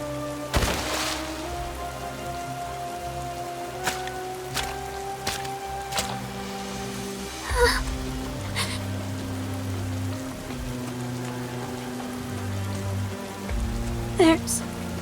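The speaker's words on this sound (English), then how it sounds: "What the? It's raining." Steady rain patters and hisses throughout, with occasional drips and splats, beneath a sustained musical tone and low background music, in the video game Goddess of Victory: Nikke.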